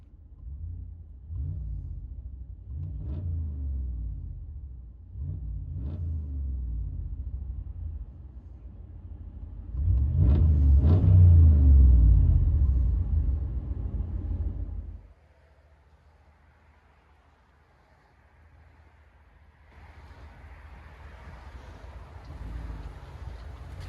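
A 2017 RAM 1500 pickup with a 5.7L HEMI V8 and muffler delete rumbles from inside the cab, with deep low throttle blips, a louder sustained rev, then a quiet, steady idle drone.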